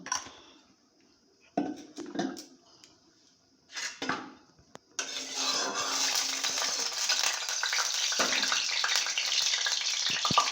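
Prawns crackle and hiss as they hit very hot oil in a wok: a few short clatters and sizzle bursts come first, then from about five seconds a loud, steady, dense frying roar continues without pause.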